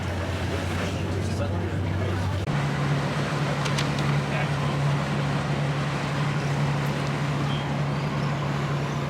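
A ship's tender boat ferrying passengers ashore at Saint Malo hums with a steady motor drone over wind and water. The engine note shifts once early on, then holds constant.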